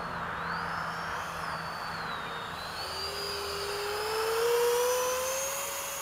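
An E-flite F-16 RC model jet flies overhead in formation. A steady electric ducted-fan whine sweeps up and down in pitch as the jet passes, swelling louder toward the end over an outdoor hum.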